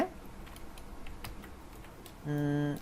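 Code typed on a computer keyboard for a PHP tutorial, scattered soft key clicks at close range, followed by a brief tonal hum near the end.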